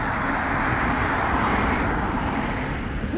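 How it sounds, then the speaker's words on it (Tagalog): A bus pulls up on a cold winter road, its steady engine rumble and road noise filling the scene, loud and close throughout with no voices. "Here comes the bus."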